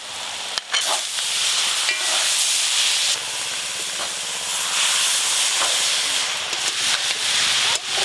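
Cabbage is stirred and cooked in a hot pan with chilli powder and ginger paste for a pitha recipe, giving a loud, steady steamy hiss and sizzle with occasional scraping stirs and knocks throughout.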